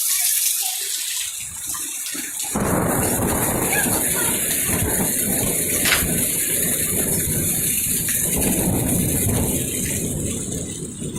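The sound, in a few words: thunderstorm with rain and thunder over Ormond Beach, Florida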